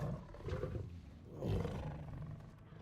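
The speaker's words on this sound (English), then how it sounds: "So Craven has a pet tiger." A pet tiger in a video game lets out two deep, rumbling roars, the second louder than the first, quiet and unaccompanied by speech.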